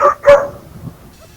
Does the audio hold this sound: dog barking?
yes